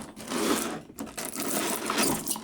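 A blade slicing through the taped seam along the edge of a God of War collector's edition box, a close, raspy scraping cut in a few uneven strokes.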